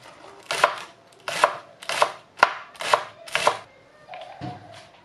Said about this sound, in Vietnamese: Còn cái hành này mình cắt nhuyễn.